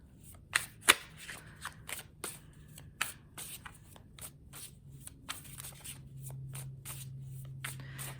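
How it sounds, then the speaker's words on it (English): A deck of cards being shuffled close up in a quiet room, with a few sharp riffle bursts and softer repeated card flicks and rustles. "I know I've been shuffling the cards here for a bit."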